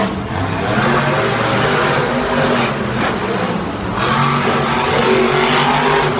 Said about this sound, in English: This Monster Energy truck is fast, as we know.